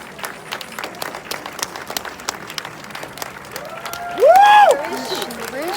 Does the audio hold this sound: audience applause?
yes